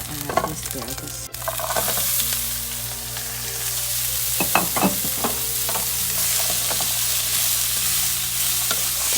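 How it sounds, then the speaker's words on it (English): Asparagus with thyme and parsley sautéing over high heat, a steady close sizzle with scraping stirs and occasional utensil clinks against the pan, no voices. "Whenever you saute something like these vegetables, you want the heat to be high."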